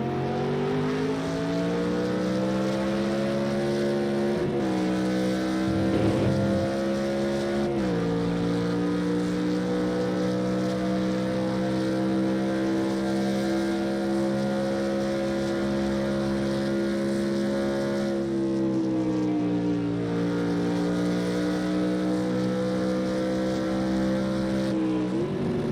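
A GT1 race car engine in Project Cars 2 drones at high revs around Spa, holding steady with a few brief dips and climbs as gears shift, loud and continuous with no talk.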